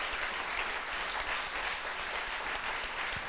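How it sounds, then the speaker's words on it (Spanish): An audience gives a dense, sustained round of applause for conference interpreters after their long stint, loud and even, with no voices over it. "se merecen un aplauso"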